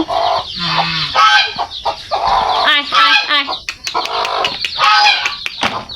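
Hens cluck and small chicks peep busily nearby at a poultry farm while a person calls out to them over the flock.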